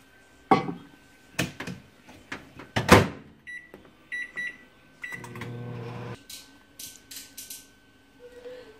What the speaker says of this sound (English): I'm going to microwave it to get it hot.